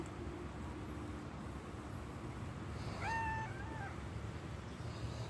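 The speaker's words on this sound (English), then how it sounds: "What did Kitty say?" A cat gives a clear two-part meow close by, standing out against a steady low hum of background noise.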